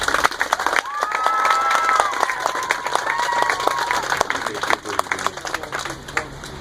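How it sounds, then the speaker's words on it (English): A crowd applauds and cheers for firefighters and police at an outdoor community gathering. Steady clapping runs throughout, with whoops and shouts, whistles, and bits of talk mixed in. "can you guys give a round of applause to your firefighters and your police, please?"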